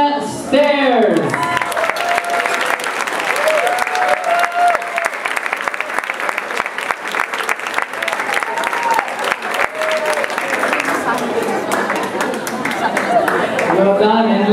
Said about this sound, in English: let's keep that applause going for the best female in the bachata, Vanya Stairs